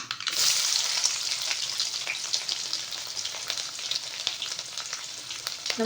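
Steady, loud sizzling of garlic frying in hot oil with mustard seeds, fenugreek and fennel, crackling continuously close up with no voices.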